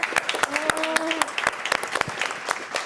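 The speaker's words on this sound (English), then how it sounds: "So if we could all give him a round of applause for, can you raise your hand, sir?" An audience at a museum round-table session applauds a gallery owner with a fairly loud, steady burst of clapping that runs the whole time, and a voice talks briefly over it.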